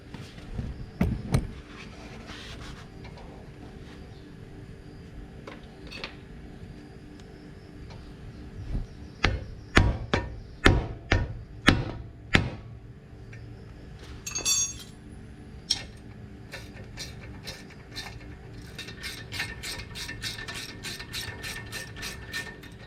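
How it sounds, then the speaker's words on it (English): A ratchet wrench clicks in quick bursts while loosening a 14mm brake caliper bolt, with sharp metallic ticks and clinks spaced between pauses, then a faster run of ratcheting as the bolt comes free during a brake pad job. "you need to loosen up, remove this bolt which is a size 14mm"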